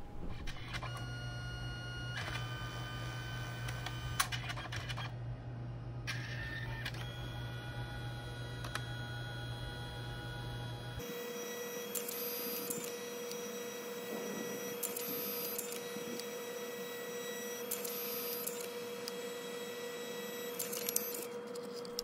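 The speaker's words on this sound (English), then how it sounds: "I just pulled out my Selfie Printer" A selfie photo printer running steadily, a continuous mechanical whir with a low hum that cuts off partway, followed by higher-pitched motor whine and repeated short feed cycles, moderately close in a quiet room.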